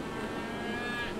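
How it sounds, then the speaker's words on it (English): A cow's low, sustained moo from the video game Icewind Dale: Enhanced Edition, loud and steady for about a second with no talking. "Is that a cow? 2 cows!"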